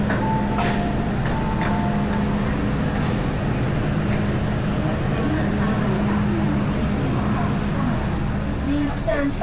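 The Peak Tram rumbles along its track in a steady, loud, continuous roar with faint clicks and squeals, while a recorded announcement and voices are heard beneath it.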